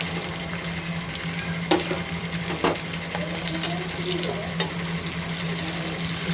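Onions frying in hot oil with cloves and black pepper, a steady soft sizzle holding through with a few sharp clinks of a stirring spoon against the pan.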